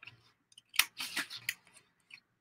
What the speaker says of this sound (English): These are not the best scissors though.